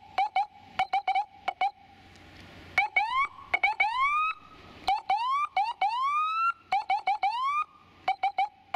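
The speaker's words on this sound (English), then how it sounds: "The manual is like a short burst of a siren." A Federal Signal SmartSiren SS2000SS-SB electronic siren plays a series of short manual bursts, alternating rapid chirps with rising whoops, loud and close with brief gaps between.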